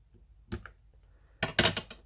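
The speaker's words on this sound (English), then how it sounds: "now I'm going to carefully take my scissors and snip it right" Scissors snip a gold and green Christmas card in a few quick, crisp cuts, a short clip followed by a louder cluster of closely spaced snips near the end, heard close up.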